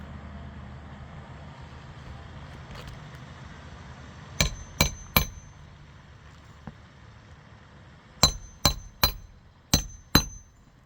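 Sharp, close hammer strikes drive a nail into residential roof shingles during a roof repair, first three quick blows, then a pause, then a faster run of five or six hits over a low steady background.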